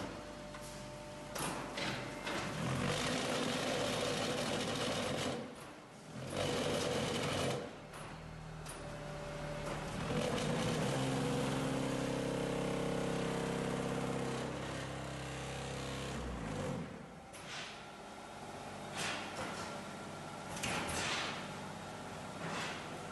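Concrete hollow block machine running with its conveyor carrying mixed material up to it: steady, loud mechanical whirring and rattling throughout, with rhythmic thumps and brief pauses as the machine cycles.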